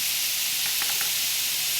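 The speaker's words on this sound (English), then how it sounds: "I'm going to start melting some butter" Butter melting in a hot pan right after searing steak gives a steady, soft sizzling hiss that holds evenly throughout, with a few faint crackles and no voices.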